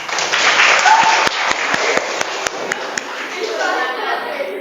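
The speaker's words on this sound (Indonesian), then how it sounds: "Oke, tepuk tangan." Classroom applause from students in an Islamic creed and ethics lesson, a run of quick hand claps over murmured voices and room noise, fairly close and moderately loud.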